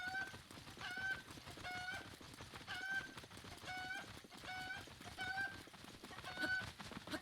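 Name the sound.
cucco chicken clucking while being fried, from video game Zelda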